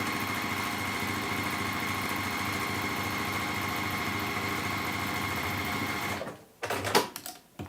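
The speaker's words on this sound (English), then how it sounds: "So we're just going to sew down that other side." A sewing machine stitches fabric in a steady, loud, droning run for about six seconds, then stops, followed by a few soft handling clatters.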